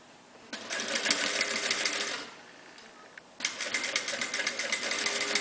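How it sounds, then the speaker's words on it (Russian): Close by, a sewing machine stitches a Turkmen embroidered piece onto a dress in two bursts of rapid rhythmic needle clatter, split by a short pause, with soft handling noise between runs. "Будем шить."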